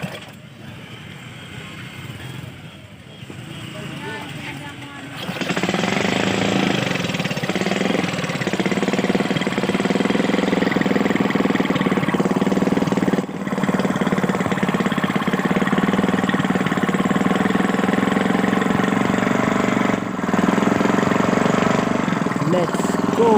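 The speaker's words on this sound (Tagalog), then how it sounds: "Start na po yung makina." Small motorized rail skate trolley on a Philippine railway line, its engine starting up and then running steadily and loudly for the rest of the stretch, with a continuous mid-pitched drone.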